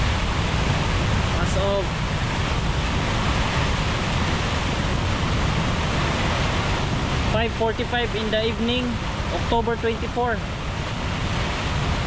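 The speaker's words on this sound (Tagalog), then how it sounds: "Grabe yung bugso ng hangin ngayon mga kapatid." Strong typhoon wind roars steadily and loudly across an outdoor campsite during a storm, a broad continuous rush, with someone speaking briefly over it midway.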